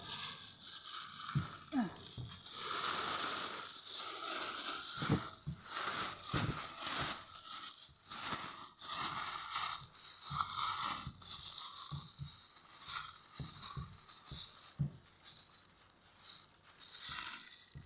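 Plastic bags crinkle and rustle in steady, close handling while large bags of fesikh fish are prepared for pickling, with scattered crumpling bursts throughout and a voice speaking at times.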